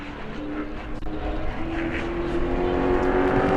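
The number 92 pro race truck completes a qualifying lap at New Smyrna Speedway, its engine a steady, loud roar that builds slightly, with no speech over it.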